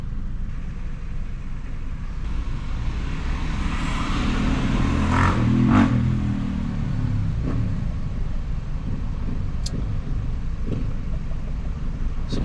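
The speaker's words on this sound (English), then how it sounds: "So people just drove by on a dirt bike and an ATV, a quad." A dirt bike and an ATV quad pass by outdoors, a rumbling engine drone that swells to a peak midway and then fades away, heard over steady traffic-like background noise.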